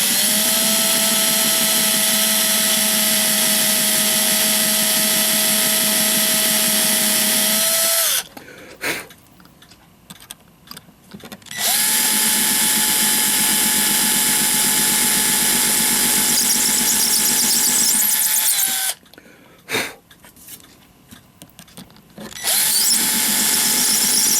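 A power drill spins a number 47 drill bit into metal, a steady high whine in two long runs, each cut off by a short quieter pause with faint handling noise, close and loud, with no talking.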